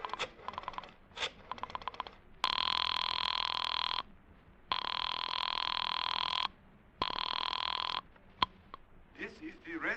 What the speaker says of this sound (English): I found Dr. Matson B. Forsyth's number and I dialed it